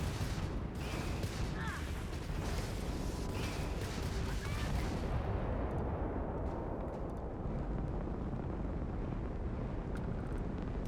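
Spaceship weapons firing during ship-to-ship combat in the video game Starfield, a dense, continuous barrage of booming shots and rumbling blasts, loud and sustained throughout, fading slightly into a roaring low wash in the second half.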